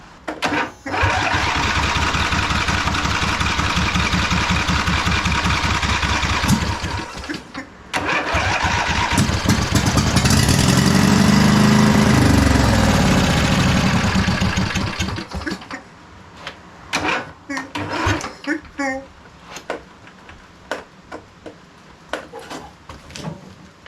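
A 2005 Husqvarna YTH2448 riding lawn mower engine cranks, catches and runs loudly for several seconds, then dies and sputters a few times before quieting.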